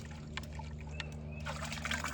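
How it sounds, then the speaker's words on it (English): Rusty water left from a Clorox rinse for iron particulates is poured out of a container, giving a short trickling, splashing pour over a low steady hum, close and quiet. "pour it out, and the water is rusty"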